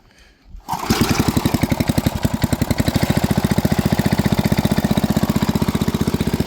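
Cold 60-year-old machine engine idling to warm up after starting: a close, loud, steady rapid putter with a regular pulsing beat running throughout.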